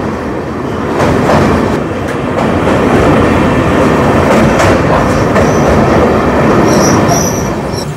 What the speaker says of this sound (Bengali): এখন কিন্তু আমরা সেই ঐতিহাসিক নসিপুর ব্রিজ ক্রস করছি